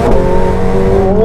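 McLaren 750S supercar with a stainless steel exhaust end pipe accelerating hard on a winding road, a loud, steady engine note with rising harmonic tones climbing in pitch as revs build, no talking.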